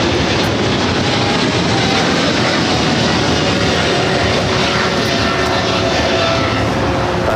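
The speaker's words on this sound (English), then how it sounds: "It was China Airlines cargo, the 777 freighter heading to Miami, taking off 25 left" A China Airlines Boeing 777 freighter takes off from runway 25 left at Los Angeles airport, a loud, constant engine roar that fills the whole stretch with no break and no talk.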